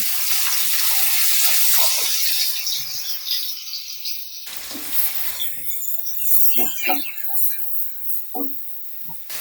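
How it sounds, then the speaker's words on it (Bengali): Chopped onions, about half a cup, drop into hot oil left from frying fish for a Bengali fish curry, giving a loud steady sizzle that fades, then returns with rattles and clinks of stirring. "এবার আমি ওই একই তেলে প্রায় হাফ কাপের মতো পেঁয়াজ কুচি ছেড়ে দিলাম।"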